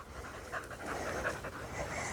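Dogs pant rapidly and steadily at close range on an overcast woodland walk, with soft rustling underneath and no talking.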